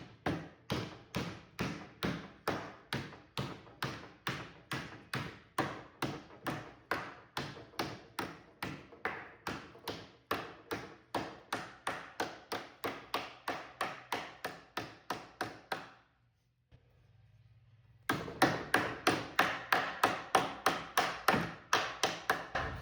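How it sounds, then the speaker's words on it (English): Sheet metal is hammered over a wood template during automotive restoration: a long series of evenly spaced, sharp ringing blows, a brief pause, then the hammering resumes somewhat louder and faster. "So you can see me hammer this."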